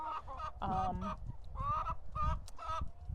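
Chickens on a regenerative farm paddock, scratching and pecking at the soil, with clucking and honking fowl calls close by over a steady outdoor background, several overlapping calls across the stretch.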